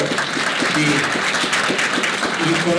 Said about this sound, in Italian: Bene, Riccardo Dalferro, allora anche a lui un applauso di